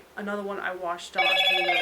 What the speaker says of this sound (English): That's my phone. Sorry about that. I forgot to shut the ringer off.